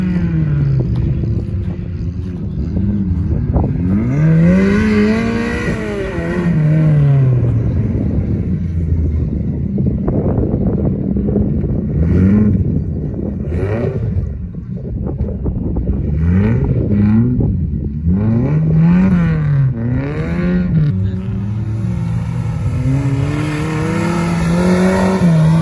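An off-road racing vehicle at a trophy-sprint race in Krasnodar revs its engine hard and repeatedly, the note rising and falling through gear changes, loud and close throughout.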